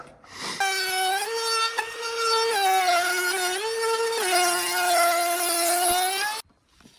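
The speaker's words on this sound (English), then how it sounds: "I'm just going to cut that bevel out with a router" A router cuts a bevel along the edge of a barn door cladding board, a steady high-pitched whine with a strong harmonic buzz that holds for about six seconds, wavering slightly as the bit feeds through the wood, then stops abruptly.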